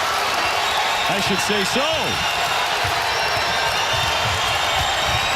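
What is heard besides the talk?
basketball crowd cheering after a dunk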